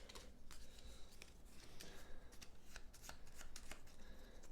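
Cards for the Battlestar Galactica board game are shuffled by hand, a close, quiet series of quick riffling and snapping bursts with no talking over them.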